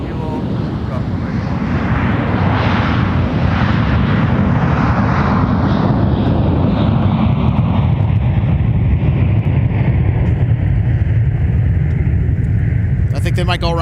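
A United airliner from Salt Lake on approach to a runway at MSP airport produces a loud, continuous jet roar with wind buffeting, holding steady before its higher tones slowly fade.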